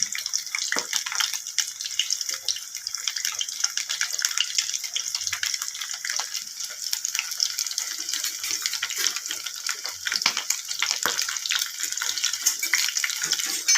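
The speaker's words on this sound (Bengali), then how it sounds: "মাছ ভাজা হচ্ছে, কড়াইয়ে মাছ দিয়ে দিয়েছি।" Fish sizzles in a kadai, a steady hissing crackle of hot oil running loud and close throughout, with no voice over it.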